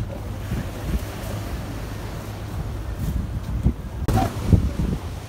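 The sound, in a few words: strong waves and wind at the shore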